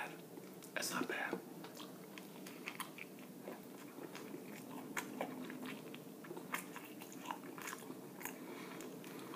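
Crunchy bites and wet chewing of White Castle sweet potato fries, close and quiet, repeating at irregular intervals with soft whispery breaths between bites.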